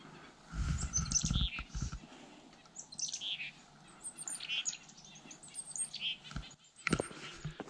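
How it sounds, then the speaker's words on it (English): Chickadees call and chirp in a snowy winter forest, several short bright calls scattered across the clip at moderate distance, with some low rustling or thumping near the start and a quiet, still background. "Chickadees, one of my favorite birds."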